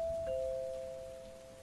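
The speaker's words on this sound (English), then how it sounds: "Who could have rang the bell at this time of night?" A doorbell in the horror game After Midnight sounds a clear two-note chime, a bright tone stepping to a slightly lower one that rings on and slowly fades, heard alone in a quiet room.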